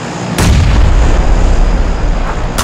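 Grenade explosions in the battle royale game PUBG, a loud sustained barrage of overlapping booms and blasts beginning abruptly and rolling on for a couple of seconds without voices.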